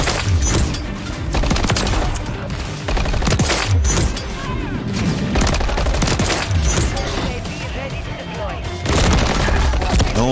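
Sustained automatic gunfire in the Modern Warfare 3 beta, loud rapid bursts with short pauses, under a player's voice talking over the action.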